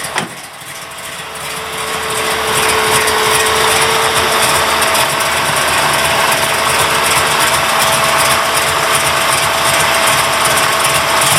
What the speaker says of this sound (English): You hear those electric fans running.